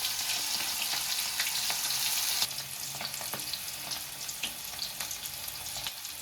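Two pieces of glass rock fish fry in hot oil with a steady, bright sizzle and small crackles. The sizzle softens partway through and settles into a quieter, continuous fry.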